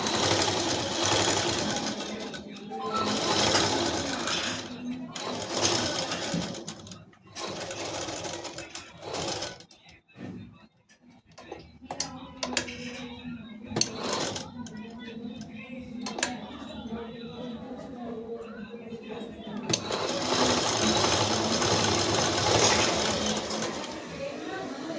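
A sewing machine stitches a boat neck top in bursts of fast, steady whirring, stopping and starting with quieter pauses in between and someone talking during the breaks.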